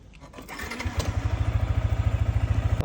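A motorcycle engine left running outdoors with the key on, starting up and settling into a steady, loud, close pulsing idle with a quick regular beat, no talk over it.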